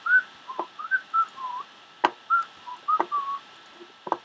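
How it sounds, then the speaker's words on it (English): A person whistles a short, bright, warbling tune in quick chirpy notes, close and clear, with a few sharp clicks and knocks from a Minecraft game session in between. "All I need is a whistle."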